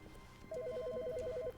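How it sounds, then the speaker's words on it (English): A telephone rings in an office inside The Stanley Parable video game as a quiet, rapid warbling electronic trill lasting about a second over faint background hum. "Whose phone's ringing?"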